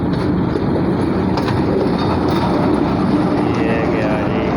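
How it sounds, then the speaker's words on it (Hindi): A Pakistan Railways express train hauled by a PH-20 locomotive passing close by, a loud continuous rumble of wheels and carriages with faint clatter, and no clear speech over the noise. "ज़बरदस्त लोकोमोटिव।"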